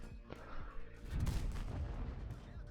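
A 113 tank firing its cannon in a World of Tanks replay, one heavy deep boom with a long rumbling tail, preceded by a few lighter thumps.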